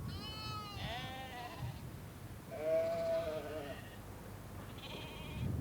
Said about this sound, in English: there's plenty of lush grass in Bardsey for the whole crop of 700 lambs every year